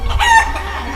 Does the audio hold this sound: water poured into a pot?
no